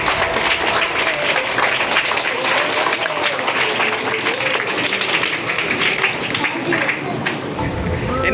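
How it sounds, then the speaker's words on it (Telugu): Students at a school election clap steadily for a winner, a dense, continuous applause with crowd murmur and voices under it throughout. "క్లాప్స్ కొట్టండి హిమకుమార్కి"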